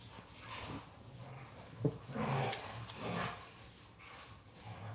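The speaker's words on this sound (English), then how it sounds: "My dogs are wrestling right now." Dogs wrestle indoors with snorts, huffs and soft whimpers, a rough scuffling mix of breathing and low growly noises at moderate distance, rising and falling in bursts.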